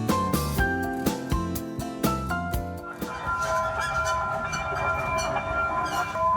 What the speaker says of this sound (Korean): 이게 항상공원을 두 배로 즐길 수 있는 가족 미니 기차입니다.